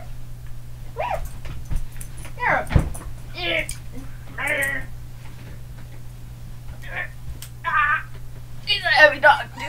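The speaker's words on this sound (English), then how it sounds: "this is our corgi" A corgi lets out a string of short, high whimpers and yips, scattered and close, over a low steady hum with small bumps in between.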